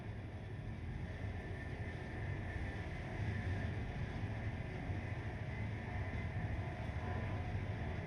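A train in Train Life: A Railway Simulator rolls past with a low, steady rumble and faint rail clatter, holding a fairly even level as the sound slowly swells.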